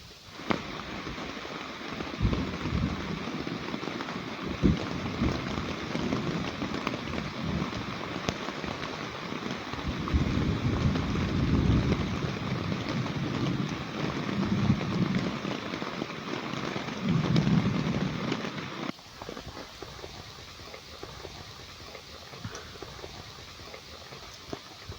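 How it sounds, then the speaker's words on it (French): Hail and rain fall steadily in Montenegro, a dense patter and rush that swells into heavier bursts before easing abruptly near the end. "c'est la belle grêle qui est occupée à tomber"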